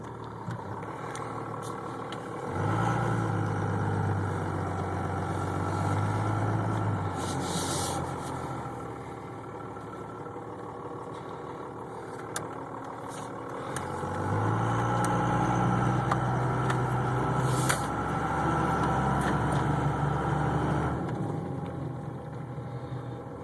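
A diesel truck fitted with twin S362/S475 turbochargers drives by with a steady engine drone that rises in two broad surges as it accelerates and eases off in between, with no talk over it.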